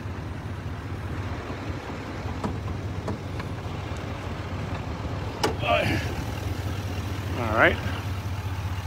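The 6.6L V8 turbo-diesel Duramax in a 2020 GMC Sierra 2500HD Denali runs at a steady low idle close by, a constant rumble under occasional clicks and brief speech.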